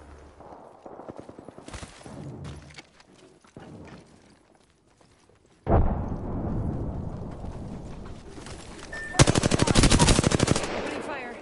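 Automatic gunfire in the battle royale shooter Apex Legends, with scattered bursts early on, then a loud sustained volley and a dense rapid string of shots toward the end, mixed with game effects.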